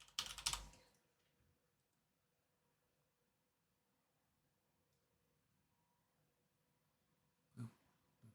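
Mechanical keyboard keys clatter in a quick burst at the start, then a near-silent stretch before a second short flurry of keystrokes near the end.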